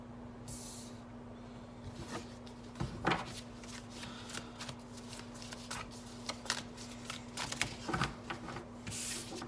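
A Tattoo Tarot card deck is shuffled close up, giving a steady papery riffling with several louder flicks against a faint background hum.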